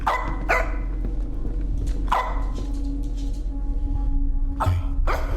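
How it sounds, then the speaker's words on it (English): A dog barks in a horror video game, with several sharp, close barks in irregular bursts over a low steady background hum and no talk. "every time we check the cameras, the dog's barking at something"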